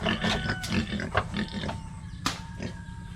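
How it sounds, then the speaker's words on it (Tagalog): Large pigs grunting and snorting close by, a series of short rough calls with some squeals over a noisy farm background. "ang laki ng mga baboy nila"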